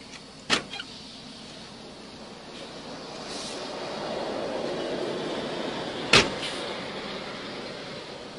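A car slowly pulls away, its low engine rumble building steadily, with a sharp click near the start and another knock or clunk later.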